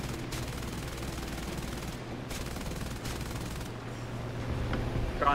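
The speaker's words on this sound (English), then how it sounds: "I'm getting shot at." Rapid aircraft machine-gun fire in War Thunder, several short bursts of stuttering shots with brief gaps between them against a steady engine drone, fairly close and sustained.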